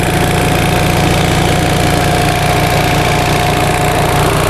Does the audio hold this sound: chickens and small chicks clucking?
no